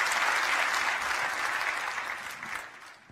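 A church congregation applauds in a full, even roar of many hands that holds steady, then tapers off toward the end with no voices over it.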